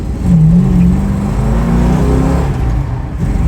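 A 1971 Plymouth Duster Twister with a 318 V8 accelerates, its engine note rising in a loud, steady pull heard from inside the car with no talking.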